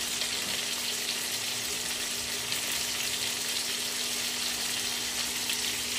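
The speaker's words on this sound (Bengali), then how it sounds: "নুন দিয়ে দিলে খুব তাড়াতাড়ি আলুটা ভাজা হয়ে যাবে, নরম হয়ে যাবে।" Salted potatoes fry in a pan with a dense, even sizzle, a close steady hiss that barely varies, and no voices.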